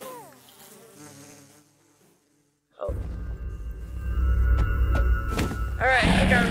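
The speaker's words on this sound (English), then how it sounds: "I think we put too many bees in." Minecraft bees buzzing in a large crowd, a wavering drone at first, then a louder dense wash of game sound with the buzz continuing, and voices talking over it.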